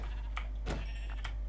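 A sheep bleating in the Minecraft video game, one short bleat over a steady low hum, with faint clicks around it.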